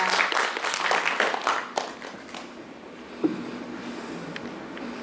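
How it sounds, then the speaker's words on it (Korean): Audience applause at a Korean literary concert greeting an arriving guest, a dense burst of clapping that fades after about two seconds into a quieter room with scattered claps and a sharp knock. "큰 박수로 맞이하겠습니다."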